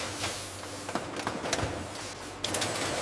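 Bottling machines in a Vietnamese anchovy fish sauce factory seal bottles with a steady mechanical whir, broken by sharp clicks and clunks that recur irregularly, with a louder clack near the end.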